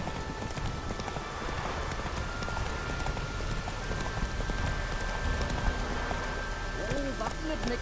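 Roach the horse gallops through the rain in The Witcher 3, with quick, continuous hoof clops over a steady patter of rainfall and a voice speaking briefly near the end.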